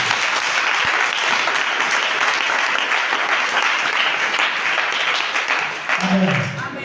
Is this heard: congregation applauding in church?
yes